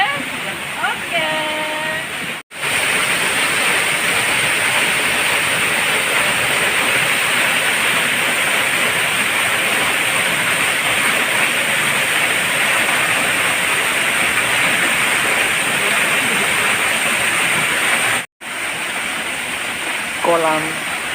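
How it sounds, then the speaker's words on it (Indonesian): The Batu Putu waterfall in Bandar Lampung pours into the pool below it, a loud, constant broadband roar of falling water that runs almost unbroken, with brief voices near the start and end. "Kolam di bawah air terjun Batu Kutu."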